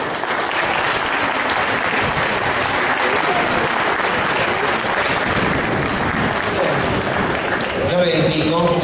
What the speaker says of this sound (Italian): che vorrei accogliere con un applauso.